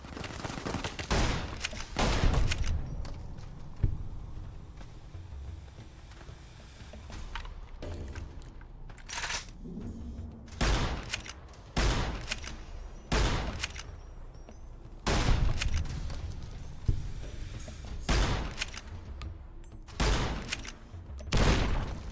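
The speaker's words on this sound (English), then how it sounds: "Oh, machine gun." Bursts of machine gun fire in Fallout: New Vegas, sharp repeated shots clustered in several loud volleys with short gaps, over a busy game background of footsteps and ambient noise.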